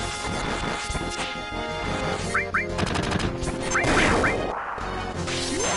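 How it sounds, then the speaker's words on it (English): A grenade bomb attack in the Final Fantasy VII video game, a loud crashing burst of blasts and impacts layered with whooshes and game music, dense and continuous throughout. "Oh, a grenade bomb."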